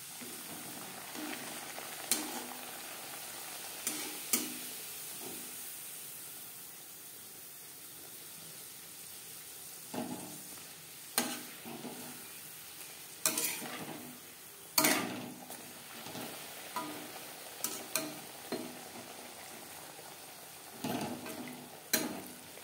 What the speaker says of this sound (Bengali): লুচি ভাজবো মিডিয়াম ফ্লেমে